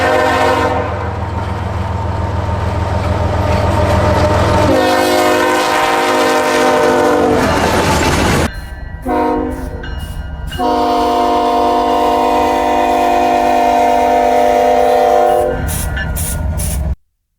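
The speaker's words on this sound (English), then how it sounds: "All ES44 locomotives come equipped with the Nathan K5HL air horn and GE steel bell or Graham White 373E bell." A GE ES44AC locomotive sounds its Nathan K5HL air horn in loud sustained chords, first long blasts, then a series of short stuttering toots and another long blast, with the steel bell ringing beneath; no talking.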